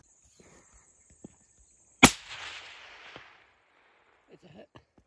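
A single sharp hunting-rifle shot cracks out at a red stag in thick bush scrub, loud and close, its echo rolling away for about a second before quiet rustling returns.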